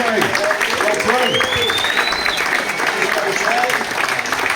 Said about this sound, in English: big round of applause for Jay